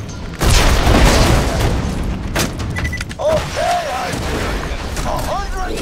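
Rocket launcher explosions in Borderlands 2: a loud booming blast erupts and rumbles on, followed by further sharp bangs and mechanical clatter amid dense game noise and brief tonal effects.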